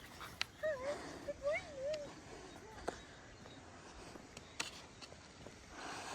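Dogs whimpering and giving short yips outdoors on a morning walk along mountain rice terraces, a few thin whines early on, fairly faint against open-air background with occasional footsteps and distant voices.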